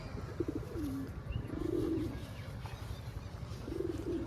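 Domestic pigeons cooing in a rooftop loft, three separate soft, throaty coo phrases rising and falling at close range over steady low background rumble, with no talking.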